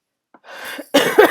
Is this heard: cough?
yes